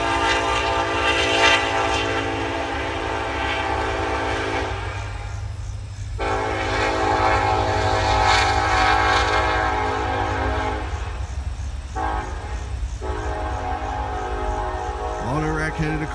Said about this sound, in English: what's running behind me is a CP main line